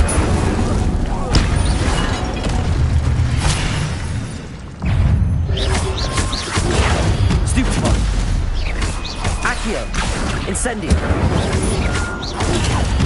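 The Incendio fire spell is cast in Hogwarts Legacy, giving loud booming bursts and crackling blasts amid busy combat noise, with a voice talking over the action.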